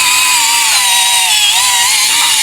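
A Dongcheng DCSP75 mini polisher running steadily, a loud, close, continuous high motor whine with a slightly wavering pitch and no voices.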